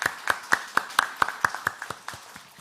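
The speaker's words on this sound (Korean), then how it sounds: "감사의 박수 한번 합시다." A church congregation at a Sunday service claps in steady rhythmic unison, about a dozen crisp claps that soften toward the end, heard at a moderate distance with no talking.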